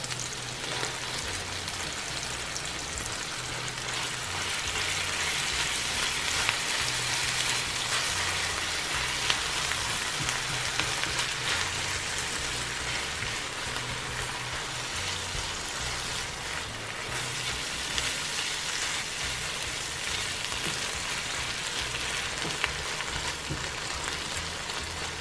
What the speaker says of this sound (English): So just let the egg sit for a little bit while the chorizo cooks